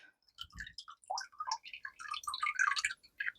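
Water drips and trickles while strawberries are rinsed in a kitchen, a close, irregular run of bright plinks and splashes with brief gaps and no voices.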